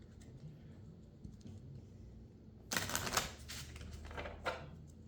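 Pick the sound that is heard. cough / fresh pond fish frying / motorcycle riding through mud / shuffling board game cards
shuffling board game cards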